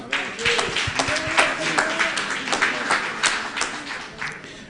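A church congregation applauds, a dense wash of clapping under singing and talk, steady and fairly loud throughout.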